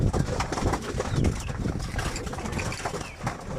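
A flock of pigeons feeding nearby, with soft cooing, rustling and occasional wing flutters in a busy, continuous murmur.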